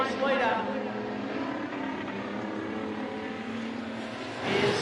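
Street stock race cars roar around an oval track in an Iron Man heat, engines blaring loudly and continuously as the pack passes, with a commentator's voice over the top.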